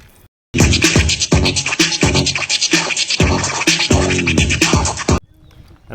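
Clay bar rubbing across car paint after fallout remover, making loud rhythmic squeaky scratching strokes back and forth, close up and alone, ending abruptly.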